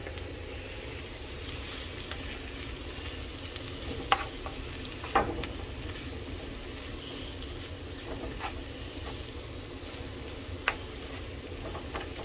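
Meat seasoned with garlic, pepper and lemon pepper sautéing in a pan for chili verde, a soft steady sizzle with occasional sharp scrape and stir clanks, close but subdued.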